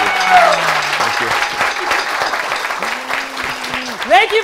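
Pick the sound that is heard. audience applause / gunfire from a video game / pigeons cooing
audience applause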